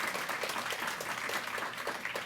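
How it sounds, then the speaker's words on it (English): An audience applauds the county executive at a Pride Month reception in Prince George's County, a continuous, moderately loud patter of many hands clapping from start to finish. "And that deserves a round of applause."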